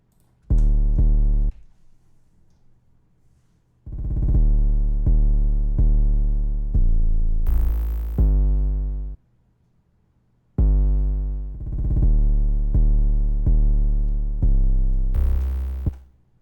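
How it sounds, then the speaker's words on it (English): Deep, booming 808 sub-bass notes in a stepped pattern, sustained tones with gaps of silence between phrases, loud and up close. "here's the 808 pattern, the bass pattern"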